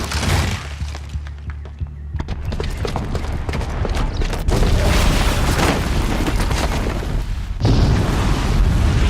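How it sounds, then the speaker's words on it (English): A bomb set off by a booby trap in the video game Horizon Zero Dawn erupts in loud, rumbling booms with sharp cracks and debris clatter, building into sustained heavy blasts across the whole stretch. "the booby trap on the bomb downstairs is gonna get set off"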